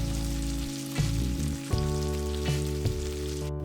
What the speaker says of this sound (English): Let this cook for around 6 to 7 minutes and keep mixing it upside down.